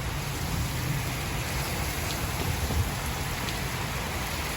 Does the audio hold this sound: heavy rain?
yes